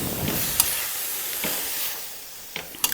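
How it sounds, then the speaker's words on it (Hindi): Mixed vegetables sizzle and fry in an Indian kadhai, a steady broad hiss with a few sharp stirring scrapes and clicks near the start and end, close and fairly quiet, no voices. "अब हमने क्या करना है, इनको फ्राई करना है।"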